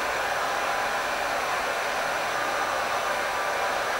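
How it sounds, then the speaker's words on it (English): A heat gun runs steadily for car window tinting, a constant loud blowing hiss that holds without a break. "So I'm going to fire up the heat gun"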